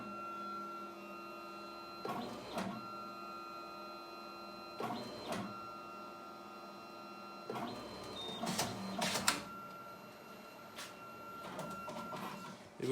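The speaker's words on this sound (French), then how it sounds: "et l'imprimante prépare son impression" A Selfie Booth photo printer whirs and clicks through its print cycle, with a steady hum punctuated by several bursts of mechanical paper-feeding noise, close by.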